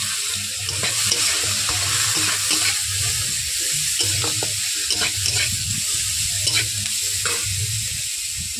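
Green chillies and chopped onion fry steadily in a pan with a continuous close sizzle, broken by scraping stir strokes and light clinks across the whole stretch, with no talking.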